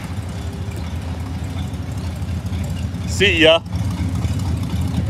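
A rat rod car with no wipers and poor brakes rumbles at a low idle while a person briefly speaks nearby, the engine droning steadily throughout at moderate distance.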